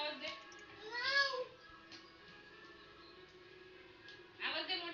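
A domestic cat meows in a drawn-out, rising and falling call, with a shorter meow near the end, amid children's chatter and play in a home.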